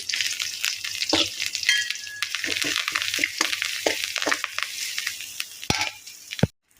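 Dried chillies, curry leaves, crushed cumin, pepper and garlic fry in hot oil with a crackling sizzle, close and moderately loud, with stirring scrapes throughout before the sound cuts off abruptly at the end.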